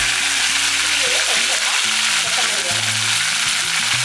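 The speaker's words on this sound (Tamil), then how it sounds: "புதினா வந்து ஒரு 10 இலையை எடுத்து இந்த எண்ணெய்க்குள்ளேயே போட்டுக்கலாம்." Mint leaves, about ten, dropped into hot oil in a pan for channa masala give a steady close sizzle with a few brief stirring clinks and a faint voice mixed in.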